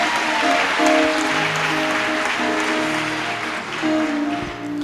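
Church congregation clapping together, a sustained dense wash of applause at steady volume, with faint tonal sounds such as voices or music mixed in.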